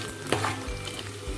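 Prawns frying in a pan with a steady sizzle and crackle, plus a brief stir partway through; close and fairly quiet.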